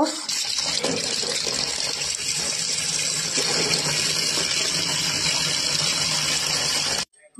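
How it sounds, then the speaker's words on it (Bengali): Tap water gushing steadily while 1.5 kilos of raw chicken are washed for a Bengali chicken kosha, a loud continuous rush that cuts off abruptly near the end. "মাংসটা আমি ধুয়ে পরিষ্কার করে নেব"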